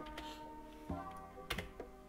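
Quiet typing on a computer keyboard, a handful of separate, irregular key clicks with one sharper tap like an enter press, close and alone with no talk.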